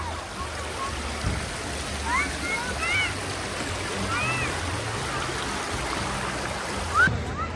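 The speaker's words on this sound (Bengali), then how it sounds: "ব্রিজের উপর দিয়ে ঝর্ণা চলে গেছে।" Waterfall stream flowing under a small bridge near a snowy lake and mountains, a steady broadband rush of water heard close, with faint birdlike chirps and brief bumps over the constant flow.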